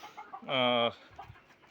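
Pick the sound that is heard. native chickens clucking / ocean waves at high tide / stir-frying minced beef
native chickens clucking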